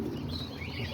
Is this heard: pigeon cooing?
yes